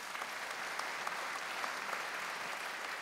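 Audience applause for all participants at the end of a competition, a steady, fairly faint wash of many hands clapping from a distance, unbroken throughout.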